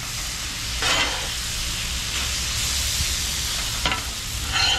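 Food sizzles loud and steady on a backyard hibachi griddle as a teriyaki dinner cooks, with a few brief scraping stirs cutting through the constant frying hiss.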